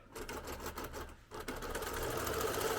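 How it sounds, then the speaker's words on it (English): A longarm quilting machine runs a straight basting line across the top of a patchwork quilt, its rapid steady stitching hum close and continuous, pausing briefly before resuming a little louder. "we're just going to baste a dead straight line across the top"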